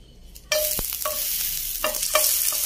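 Cooking oil fries in a pan while malunggay sarciado is prepared, a steady close hiss of sizzling broken by a few sharp clinks and stirring scrapes.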